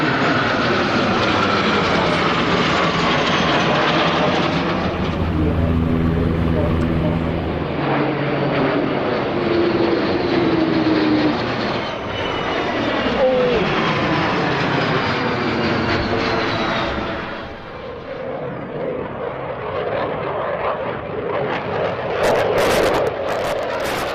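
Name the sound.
aircraft flying at air show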